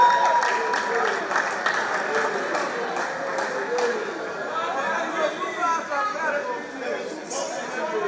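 A live comedy audience applauds for a comedian, a dense wash of clapping mixed with crowd chatter and voices, steady and moderately loud across the whole stretch.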